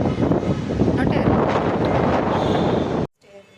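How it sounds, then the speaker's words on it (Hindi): Strong wind blows outdoors and roars straight into the microphone, a loud, continuous buffeting that lasts about three seconds and then cuts off abruptly into quiet. "बहुत अच्छी हवा चल रही है"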